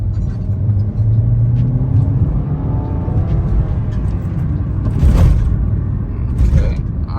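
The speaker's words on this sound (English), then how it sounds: "let's go for a little test drive" An Audi A4 B8, freshly fitted with a new intake manifold to fix a P2015 fault, rumbles along on a drive, heard from inside with a steady low engine drone and occasional creaks.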